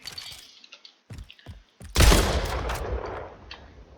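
Shotgun firing in the video game Splitgate, a loud booming blast with a long ringing decay, preceded by light clicks and handling sounds.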